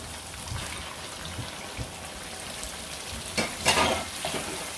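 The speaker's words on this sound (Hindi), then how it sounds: "अब इसमें चिकन को ऐड करेंगे।" Chicken sizzles and fries in masala in a karahi, with steady crackling and a few louder scraping stirs near the end, and no voices.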